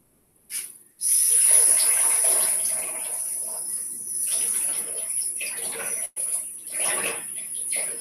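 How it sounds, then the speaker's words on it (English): Hands are washed under a running kitchen tap, a close, hissing stream of water with splashing that shifts and breaks as the hands move, briefly cut off once before resuming. "I'm gonna go wash my hands now."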